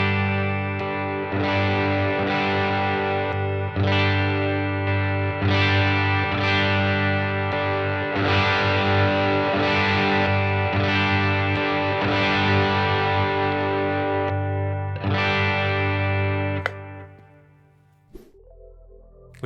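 Electric guitar played through overdrive pedals one at a time, giving a sustained, distorted tone with strummed chords and ringing notes, loud and continuous, then a short pause and a final brief pick sound near the end.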